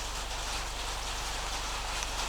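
Steady, dense rain drums on a tin roof, an even hiss with no voices.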